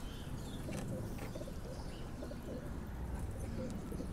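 Pigeon coos repeat softly through a steady low murmur of many birds, probably a loft of teddy pigeons, with faint chirps scattered over continuous background noise.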